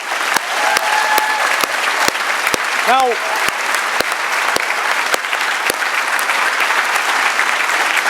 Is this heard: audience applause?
yes